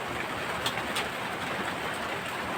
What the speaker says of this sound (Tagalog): Lakas po ng ulan sa labas eh.